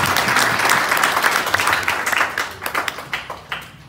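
A church congregation at a Nyamira mission gathering claps together in a loud, dense burst of applause that thins out toward the end into scattered individual claps.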